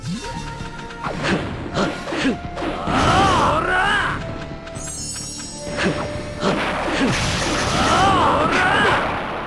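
Explosions and crashing impacts from the video game Naruto Ultimate Ninja Impact in two loud bursts, mixed with whooshes and game music, while Japanese character voices speak between them.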